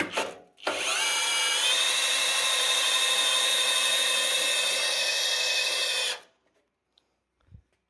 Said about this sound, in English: I could just get my other drill too.